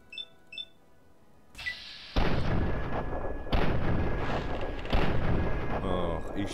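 Gunfire in the video game Fallout 3, heard as a sudden loud burst followed by sustained roaring blasts and booms at close range, with quieter chiming game tones before it.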